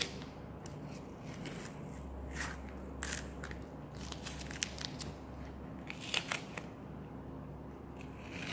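Tape is peeled from a roll during a watercolor stained-glass painting project, giving soft crackling, tearing and crinkling sounds in short, irregular bursts, quiet and close, with no talk.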